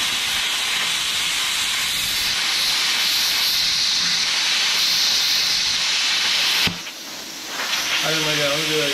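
A Bestarc BTC500DP 7th generation plasma cutter cuts metal with a loud, steady roaring hiss that runs for several seconds, then cuts off abruptly and gives way to a brief quieter stretch as a lower hum returns.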